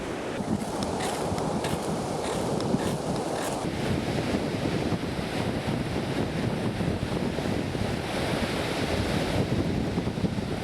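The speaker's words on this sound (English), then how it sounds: "Got a little wind out here on the beach." Steady wind gusting across an open beach at a campsite with a tent and fire, blended with the broad wash of surf, a continuous loud roar with microphone buffeting and no voices.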